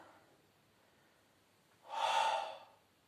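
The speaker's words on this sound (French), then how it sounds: "expire, inspire" One short, breathy exhalation during a Pilates workout, close and moderately loud, rising and fading within about half a second after a quiet stretch.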